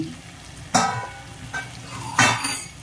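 A spoon scrapes and clinks against a pan of prawn curry in a few distinct strokes over a quiet, steady sizzle, close by with no voices.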